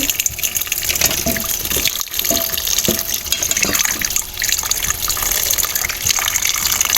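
Sliced katmon fruit, used as a souring agent for sinigang, being washed under running water; a steady close gush of tap water with occasional splashes and clatters as the pieces are handled, no talking.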